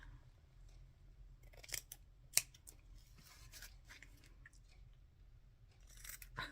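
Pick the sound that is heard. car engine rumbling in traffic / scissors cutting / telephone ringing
scissors cutting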